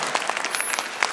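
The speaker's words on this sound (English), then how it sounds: "let's get a sister a round of applause" An audience breaks into a round of applause, a dense burst of clapping that stays steady and fairly close throughout the short moment.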